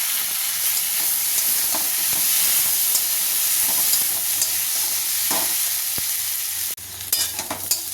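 Green banana and other vegetables fry with spices and ground chili for a fish curry, giving a loud steady hiss and sizzle with occasional stirring clatters; the sizzle drops sharply near the end.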